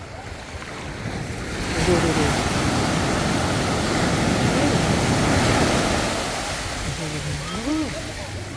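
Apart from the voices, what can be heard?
strong sea waves crashing on beach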